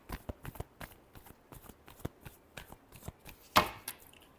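Tarot cards are shuffled close by in a quick series of crisp, separate slaps and riffles, ending in one louder snap of the deck.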